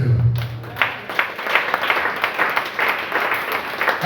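A church congregation claps and applauds, a steady patter of many hands with rhythmic pulses, moderately loud and filling the room, with faint voices underneath.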